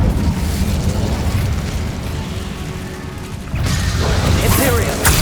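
The Incendio fire spell is cast in the Hogwarts Legacy video game, giving a loud, sustained roaring whoosh with dense rumbling that swells again after a brief dip.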